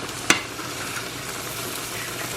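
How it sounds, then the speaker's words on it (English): Food with ground turkey boiling and sizzling in a pot on a home stove, a steady bubbling hiss throughout with one sharp clink near the start. "So these are boiling up."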